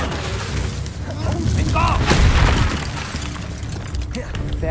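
Fiery spell blasts from a Harry Potter video game burst out with booming, crackling explosions amid game effects, a loud surge in the middle, while someone talks over it.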